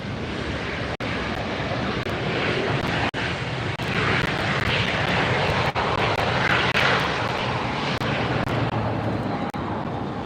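A big jet airliner lands at LAX, its engines a loud, continuous roar heard close up for the whole stretch, with wind buffeting the microphone and no talking.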